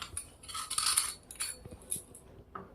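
A metal spoon presses crushed paste against a dish to squeeze out juice for a homemade cough syrup, giving faint, close, irregular clinks and scrapes.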